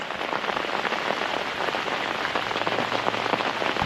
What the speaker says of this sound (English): Started raining at I think maybe 4 in the morning this morning, and it's just been like this since then.